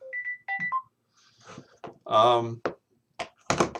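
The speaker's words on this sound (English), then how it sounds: "I just got a phone call." A phone ringing with an incoming call, heard as a short run of bright electronic tones at the start. A voice then talks over the rest.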